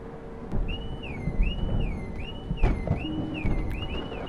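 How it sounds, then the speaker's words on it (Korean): A wailing alarm in a horror video game set aboard an airplane rises and falls in a steady repeating cycle over a background of rumbling noise and scattered clunks. "경보가 울리기 시작하네."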